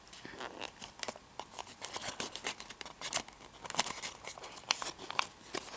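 Paper being creased and folded behind itself by hand, a soft run of crinkles and sharp little crackles at close range, fairly quiet and irregular with no talking.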